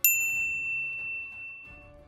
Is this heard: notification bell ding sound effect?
yes